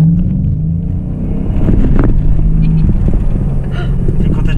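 A Dodge Challenger's engine rumbles low and steady from inside the cabin as it accelerates over a city street, with passengers aboard and short bursts of voices over the drone.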